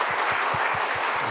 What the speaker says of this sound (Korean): 우리 성가대에서 박수 한번 드리겠습니다.